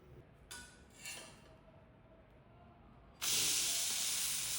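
A Madurai chicken kari dosa, topped with coriander leaves, bursts into loud steady sizzling on a hot pan right after being flipped, following a few faint scrapes and clinks of a spoon on a quiet background.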